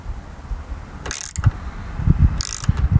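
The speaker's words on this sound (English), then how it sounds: "I can run just a thread chaser through that hole and save the threads that way" A thread chaser is worked slowly through a broken bolt hole on a 1992 Miata. It gives a close ratcheting and clicking over a low rumble, with two brief bursts of higher grinding.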